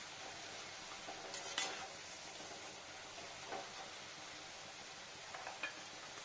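Dough snacks frying in oil in a pan are stirred, giving a faint, steady sizzle broken by a few soft scraping strokes, with no voices.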